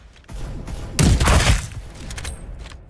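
Gunfire in the battle-royale shooter Farlight 84, a dense burst of shots peaking near the middle and sitting over steady game background noise, with sharp clicks and faint mechanical sounds around it.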